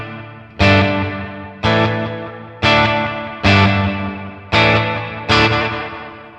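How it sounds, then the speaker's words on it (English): Red Panda Context pedal set to a short delay: six loud, bright instrument strikes roughly a second apart, each smeared into a dense, chorus-like wash that decays before the next hit, with no voices. "So if we run a really short delay,"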